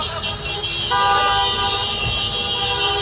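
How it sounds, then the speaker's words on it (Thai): Car horns honk together at a street protest car mob in a park in Lampang, Thailand, a dense blaring chorus of overlapping toots that swells and holds loud throughout. "บีบแตรครับกดแตรเลยครับว่าเราไม่พอใจประยุทธ์จันโอชา"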